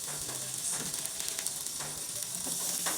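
A steak fries in a little oil, giving a steady, close crackling sizzle with fine hissing pops that continue evenly throughout.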